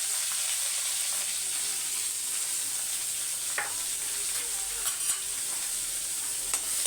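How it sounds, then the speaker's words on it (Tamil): Onion, garlic, dried red chilli, mustard seeds and curry leaves sizzle steadily in hot oil in a pan, a soft continuous frying hiss with a few light stirring scrapes. "வெங்காயம் வந்து பாதி வதங்கினா போதும்"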